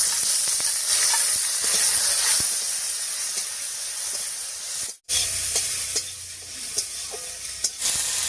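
Chopped tomato hits hot oil in a pan alongside spinach and egg ingredients, giving a loud, continuous sizzle and hiss with occasional stirring clicks, briefly cut off before the frying hiss resumes.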